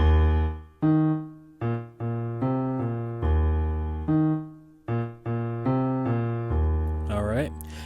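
Slow gospel piano chords of "This Joy I Have" with rich, sustained harmonies, each struck and held before the next, ending with a brief high flourish.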